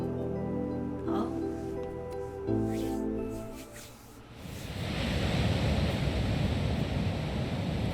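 Ocean waves in a visual novel game swell into a broad, steady surf wash after a stretch of tonal music and voice, rising to a full, continuous roar in the second half.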